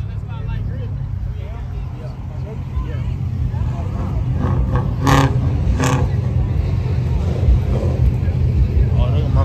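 Chevy Camaro engine revving outdoors at a car meet, a steady low rumble throughout with a couple of sharper rev bursts in the middle, heard under nearby people talking.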